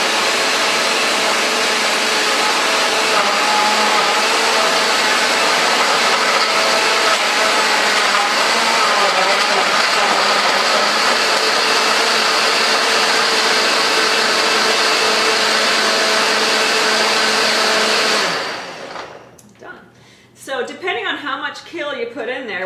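Blender whirs loudly and steadily for about eighteen seconds, grinding kale and ice for a smoothie, then winds down and stops. Brief talking follows.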